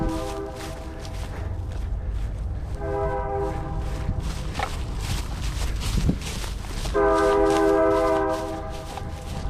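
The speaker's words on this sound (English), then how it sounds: "I hear that train a-coming." A train rumbles past nearby in Cloquet, Minnesota, blowing two long horn blasts over a constant low clatter of wheels.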